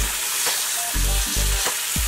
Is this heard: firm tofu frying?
yes